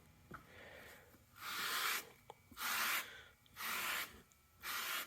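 A microfiber towel wipes across a Yeti Tundra 45 cooler's Aqua Marine pad to dry it. Four slow, rhythmic rubbing strokes come close and clear, each a soft, brushy swish, with short pauses between them.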